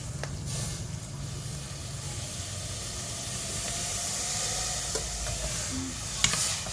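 Water poured into a pan of stir-frying beef for a Thai beef soup: a soft, steady hiss and sizzle of steam, fairly quiet and continuous, with a few light clinks and scrapes near the end.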